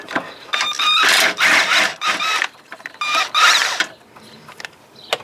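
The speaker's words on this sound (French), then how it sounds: "on va prendre une douille de 13 longue" Ratchet clicking as it turns a long 13 mm socket during a clutch replacement on a Peugeot 206, with loud bursts of rapid mechanical ratcheting separated by short pauses, close up and without talk.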